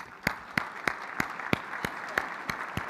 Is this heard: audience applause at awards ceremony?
yes